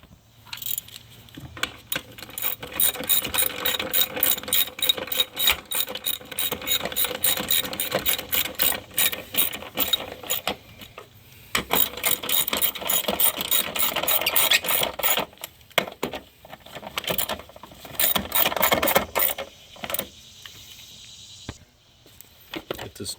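A ratchet driving 12 mm bolts into the battery tray of a 2014-2016 Kia Soul, with rapid clicking bursts that stop and restart through the clip, alongside metallic clinks and some quiet talk.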